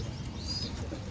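Pigeons coo faintly in a village where homing pigeons are flown, with a soft, brief call over low outdoor background noise.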